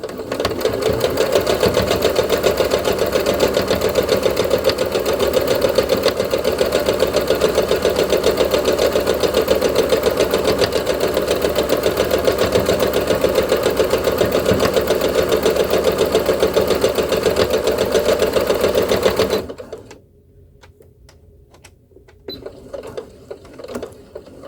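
A sewing machine runs steadily and loudly, stitching fabric at an even pace for about twenty seconds before stopping abruptly, leaving near silence with a few faint clicks.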